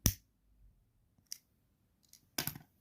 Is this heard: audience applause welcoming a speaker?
no